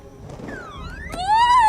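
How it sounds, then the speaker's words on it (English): A brief electronic car alarm wails with sweeping, warbling tones that rise and fall against a quiet background. "I'll go shut the car alarm off and I'll be right back."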